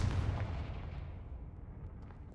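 Confringo fire spell blast in Hogwarts Legacy, a dense low rumbling boom that starts loud and decays over a couple of seconds, with no voices over it.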